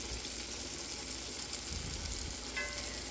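Steady, crackling sizzle of food frying in hot oil, close and continuous, with a faint clink near the end.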